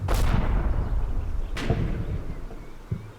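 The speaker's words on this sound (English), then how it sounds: "the Germans throw a whole lot of mortars at us" German mortar rounds landing in the Combat Mission Fortress Italy wargame: two heavy booming impacts about a second and a half apart, each with a sharp crack and rolling low rumble, followed by fainter distant thuds.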